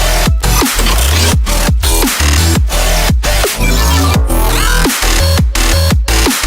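Electronic dance music drop built in FL Studio, loud and dense, with a steady pumping beat of heavy kick hits and sidechained synths running continuously with no voice.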